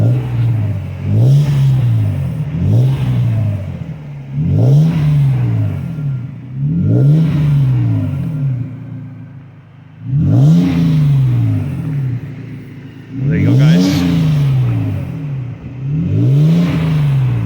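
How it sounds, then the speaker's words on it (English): A 2nd-generation Toyota Tacoma pickup engine revs repeatedly on a cold day, each throaty rise and fall arriving in a rhythmic series through a deep, rumbling MagnaFlow Overland Series exhaust, close by; someone speaks briefly. "go ahead, rev it up"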